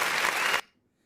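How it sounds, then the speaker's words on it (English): A brief burst of canned applause from a sound-effect track during a charity auction, dense and steady for about half a second before cutting off abruptly into silence. "I'm gonna put an applause track going on."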